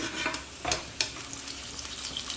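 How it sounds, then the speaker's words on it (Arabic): Carrots frying in hot oil while being stirred, giving a steady close sizzle broken by a few sharp scraping strokes of the utensil. "اقلب الجزر في الزيت قليل حتى يتغير لونه ويتغير لون الزيت برضه"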